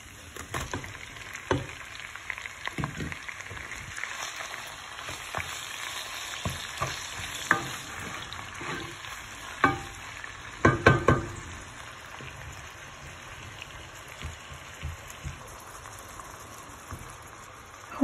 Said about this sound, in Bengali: ভাজা ভাজা করছি, এখন আমি পেঁয়াজটা দিলাম